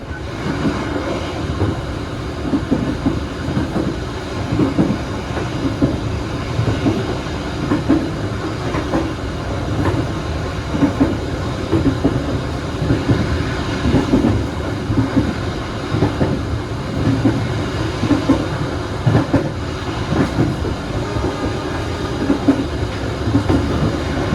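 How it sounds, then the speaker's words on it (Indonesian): Onboard the KA Tawang Alun passenger train running from Banyuwangi toward Malang at speed, a steady loud rumble with rhythmic clickety-clack of wheels over rail joints throughout. "Makanya relnya enak dan bisa dipacu hingga kecepatan 90 km per jam."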